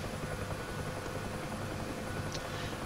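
Helicopter engine and rotor from the DCS World flight simulator game, a steady dense drone that holds without a break the whole time.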